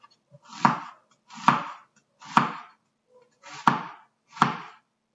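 A knife slices through a vegetable toward the root on a board in five evenly spaced, crisp cuts, each a short close thud with a soft swish, with silence in between.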